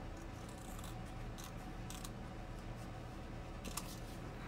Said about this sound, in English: let me see if I can kind of trim this straight here